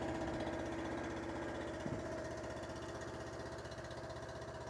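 The engine of a Wolfe Ridge 28C compact commercial log splitter runs at a steady idle, a constant throbbing drone, close and even throughout, with no voices.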